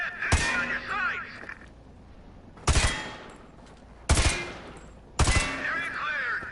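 Separate bursts of gunfire on a shooting course in Call of Duty, four loud cracking volleys spaced a second or more apart, each trailing into echoing ricochet whines over a quiet, low room tone.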